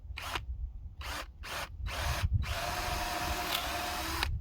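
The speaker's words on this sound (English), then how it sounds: "Then I just start drilling in." Several short bursts of a power drill starting and stopping, then a longer steady whine as it bites into a round treated wooden fence post, close and loud.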